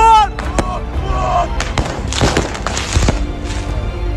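Firecrackers set off by rioters at the Al-Aqsa Mosque compound, a series of sharp irregular bangs and thuds mixed with crowd noise and voices, loud and close.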